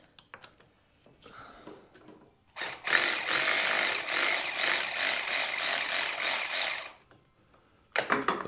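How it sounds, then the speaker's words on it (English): A battery-powered ratchet whirs in one sustained burst of about four seconds while tightening a bolt on a motorcycle stabilizer on a Harley Dyna, with faint clicks and handling noises before it and another start at the end. "This is the side where the battery ratchet will come into play."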